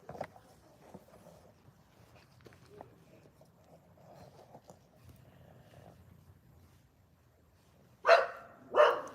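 Two loud dog barks near the end follow a stretch of quiet, low background rumble.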